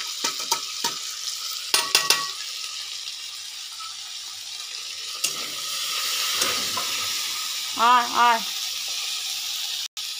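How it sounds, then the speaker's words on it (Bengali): Ginger sizzles in hot oil with ground coriander, turmeric and chilli powder for a Japanese puti fish curry, a steady broadband fry broken by a few sharp clinks of stirring and a brief rising call near the end. "এইভাবে মশলাটা ভাজা করে নেব"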